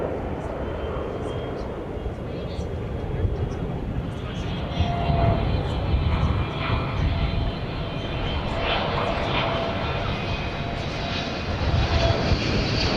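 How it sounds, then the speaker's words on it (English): Airbus A321 jet taking off at DFW Airport in the evening, a broad, continuous engine roar that swells slightly as it climbs, heard from a distance with steady background rumble. "we have an aircraft which is taking off. Flight 1243 is going to San Diego, California, an Airbus A321."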